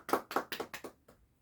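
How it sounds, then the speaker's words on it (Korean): Short burst of clapping from a church congregation, about five sharp claps in quick rhythm that fade out within a second, close and fairly loud. "하나님께 영광에 박수를 우리 같이 올려드리시겠습니다"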